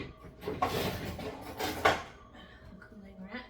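Kitchen clatter of metal kitchenware as a cooling rack is pulled out beside a small travel-size oven, several clanks and scrapes over about two seconds, close and moderately loud, then quieter handling.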